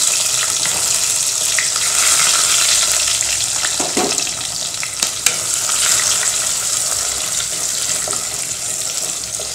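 Onions sauté in hot oil after a tempering of mustard, cumin, fenugreek and curry leaves, a loud continuous sizzle with occasional scraping stirs and small pops, no voices.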